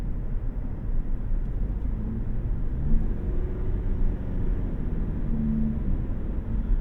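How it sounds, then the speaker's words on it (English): A 2024 Toyota Prius Prime XSE Premium engine whirring steadily while climbing a hill, a continuous low droning hum with slight pitch shifts, heard from inside the car over road rumble. "You can kind of hear that engine just whirring away up this hill."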